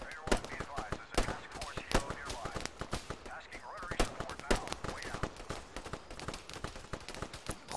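Heavy automatic and rifle fire rattles in ARMA 3 in rapid, overlapping bursts of sharp close shots that never let up, with voices speaking under the barrage.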